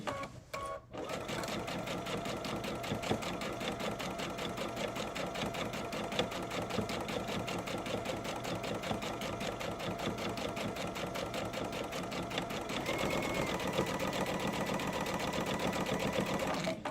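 Sewing machine stitching a hem along the edge of Cuddle fabric, a steady rapid mechanical whirr with fast needle ticking that runs nearly continuously after a brief pause at the start, close and fairly loud.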